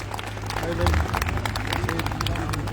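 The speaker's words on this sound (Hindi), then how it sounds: "आप लोग अपनी तालियां बनाए रखें।" An audience at a building inauguration ceremony claps continuously in a dense patter, with crowd murmur and voices mixed in throughout.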